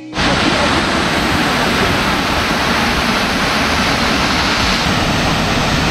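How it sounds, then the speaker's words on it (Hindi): A waterfall in Meghalaya roars as a loud, steady broadband rush of falling water, constant and close with no pauses. "और ये वाटरफॉल बहुत प्यारा है बहुत"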